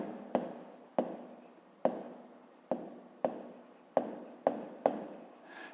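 A pen scratches across paper in a series of sharp, regular strokes, each starting with a tap and trailing off, close and clear with no voices.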